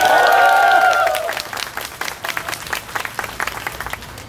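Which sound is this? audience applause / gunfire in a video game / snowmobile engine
audience applause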